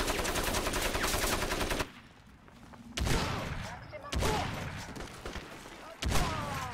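Rapid automatic gunfire from a machine gun nest in the shooter game Crysis, loud dense bursts with brief pauses between volleys, some distant rattling mixed in.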